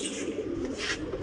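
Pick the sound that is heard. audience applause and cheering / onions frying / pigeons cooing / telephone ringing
pigeons cooing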